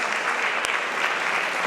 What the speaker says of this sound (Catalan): Aplaudiment també pel model.